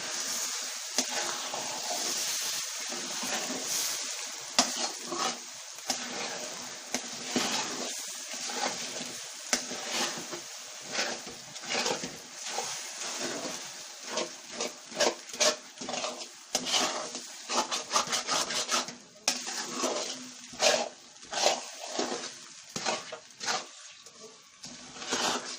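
A spoon stirs makhandi halwa in a pan over low heat, with repeated scraping and clinking strokes against the metal in an uneven rhythm over a soft sizzle.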